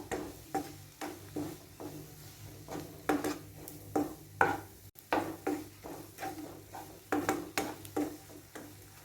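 Grated coconut being stirred into frying masala for a lima bean curry, with a spoon scraping and tapping the pan in a steady, repeated rhythm of close, moderate clatters over a low sizzle.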